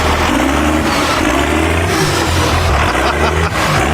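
A tiny truck's engine revs hard and loud during a wheelie attempt, a steady mid-pitched roar that rises and dips slightly across about four seconds, with no talking.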